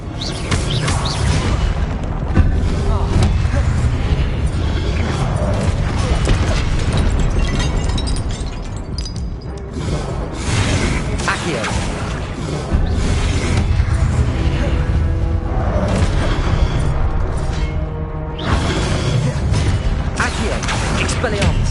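Spell explosions and bursts of fire from Confringo and Incendio in the Hogwarts Legacy video game on PS5, a dense, loud run of booms and blasts that continues for the whole stretch.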